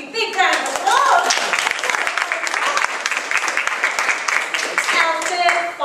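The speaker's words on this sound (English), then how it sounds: "Big round of applause." An audience applauds warmly at a school talent show, sustained clapping with cheering voices and children's chatter over it.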